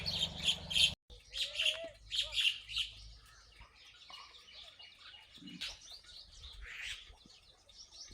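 Birds chirp and tweet in short bursts, with several high calls nearby over a quiet outdoor background.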